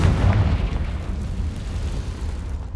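The Confringo blasting spell in Hogwarts Legacy bursts in a deep, rumbling explosion that starts with a heavy boom and trails into a sustained roar of debris and echo, with no voices.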